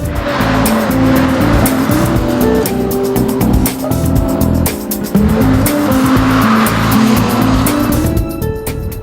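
Race car powering hard through a track corner, engine roaring loud and steady with tires squealing and skidding throughout, the note dipping briefly mid-pass before climbing again.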